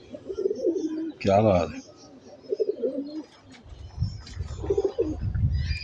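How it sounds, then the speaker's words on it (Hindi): Teddy pigeons coo in low, throaty bursts nearby, with someone talking over and between the calls and some rustling in the background. "ये चौधरी वाले कबूतर कहलाते हैं"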